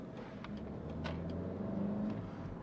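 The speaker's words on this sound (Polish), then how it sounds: "Ruszanie ze skrzyżowania nie sprawia problemu, autko fajnie z miejsca się" A 2005 Seat Altea 1.6 with a 102-horsepower engine pulls away from an intersection, its engine humming steadily and building slightly as it accelerates, heard from inside with no talk.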